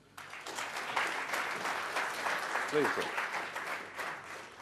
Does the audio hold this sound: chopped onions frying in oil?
no